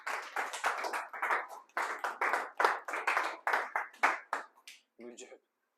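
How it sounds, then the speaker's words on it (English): Students in a classroom clap their hands in a quick run of about a dozen sharp, close, loud bursts, followed by a brief voice at the very end. "Wow, claps."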